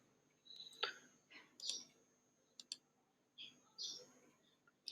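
Faint, sharp mouse clicks on a computer sound a few times at irregular intervals in a quiet room, each a brief tick with short gaps between.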